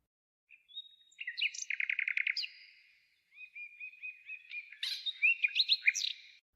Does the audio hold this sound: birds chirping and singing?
yes